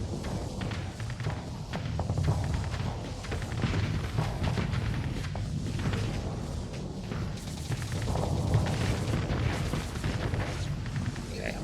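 Broadside weapons fire from a spaceship in the game Starsector rumbles as a dense, continuous barrage of booms and thuds, loud and unbroken throughout, with no speech over it.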